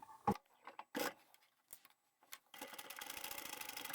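A sewing machine stitches straight across the bottom of a flat zippered tablet pouch made from scrap fabric. A few close handling knocks come first, then the motor hums in a steady, rapid run to the end.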